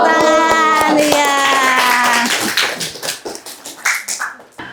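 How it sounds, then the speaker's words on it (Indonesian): A group at an Indonesian religious lesson claps hands in scattered, uneven bursts after a stretch of voices. The claps are close and fairly loud, then thin out into separate taps. "Iya, tepuk tangan."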